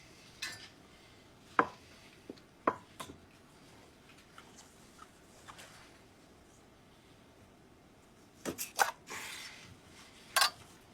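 A knife trims a sea bass fillet on a kitchen surface, giving a handful of sharp, isolated taps and scrapes spread across quiet stretches, with a brief cluster of clicks near the end.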